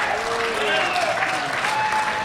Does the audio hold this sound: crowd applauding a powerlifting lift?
yes